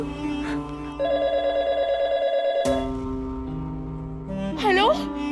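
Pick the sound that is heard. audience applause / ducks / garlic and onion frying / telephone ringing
telephone ringing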